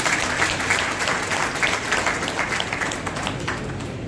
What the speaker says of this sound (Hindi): एक बार मेरी तरफ से तालियां बजाकर उनका स्वागत करें।